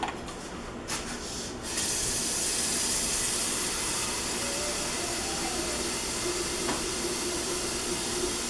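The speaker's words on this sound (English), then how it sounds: "so I am gonna add a lot more water" Steady broadband rushing of water poured into a pot of yellow chicken curry, continuous and fairly close, following a brief scrape at the start.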